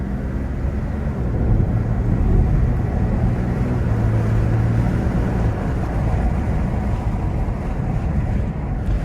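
A 2002-2006 Nissan Altima with newly replaced front rotors braking hard from 50 down to 20 while driving, a steady loud rumble of road and engine noise with no voices.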